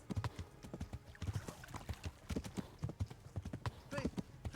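Hooves of a horse clip-clopping at a fast, uneven gallop in a Western video game, with a snort or whinny and a voice speaking over the close hoofbeats.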